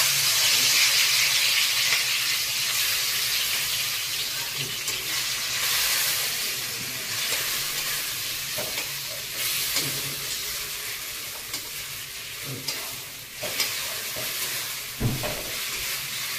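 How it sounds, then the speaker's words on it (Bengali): Shrimp fry lightly in hot oil in a pan with a steady, close hiss and sizzle. Occasional soft clicks and stirring taps sound over the fizz, and no one speaks. "তেল গরম হয়ে গেছে, এই চিংড়ি মাছটা একটু হালকা করে ভেজে নিই"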